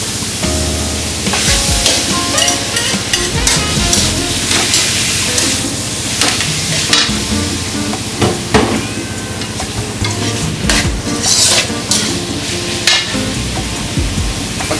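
Beef frying in a pan after garlic and onion, a loud close sizzle with vigorous stirring and scraping, utensil knocks recurring over the continuous hiss.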